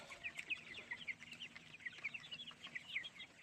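Month-old Tiger breed chickens cluck continuously nearby in quick, chattering bursts, with no talking.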